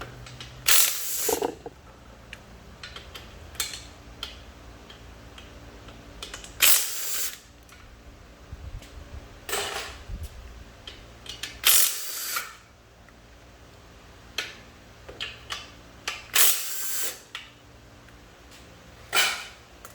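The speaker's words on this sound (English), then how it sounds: "And get these bolts out one by one." Ratchet wrench on an extension backing bolts out of an M5R1 transmission during disassembly, close bursts of rapid clicking separated by pauses and scattered metal clinks, no voices.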